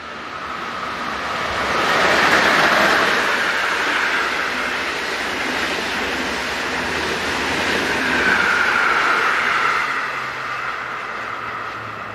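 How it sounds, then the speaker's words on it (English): Swiss Re4 electric locomotive 11204 hauling a passenger train from Brieg to Geneva past a station, a loud, sustained rushing roar that swells, holds, then eases as the train goes by. "Re4 number 11204 passes by with the"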